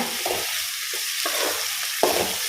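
Cumin and spices frying in oil as the base for a fish curry: a continuous close sizzle broken by several short scraping strokes of a spoon in the pan.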